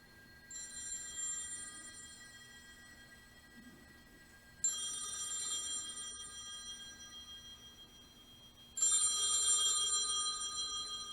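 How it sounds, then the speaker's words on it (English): A phone booth telephone bell rings in three separate bursts, each a bright metallic trill lasting a few seconds, with quiet gaps between them and a steady low hum underneath. "There's a phone call."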